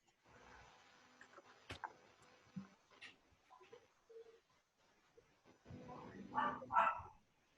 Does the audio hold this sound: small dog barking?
yes